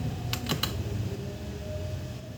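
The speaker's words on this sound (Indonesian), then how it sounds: "Kita ketik net" A computer keyboard is typed on briefly, giving a few quick clicks near the start over a steady background hum, then only the hum continues.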